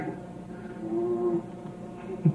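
Cow mooing, a single low drawn-out moo at moderate distance over quiet outdoor background, heard alone without talk.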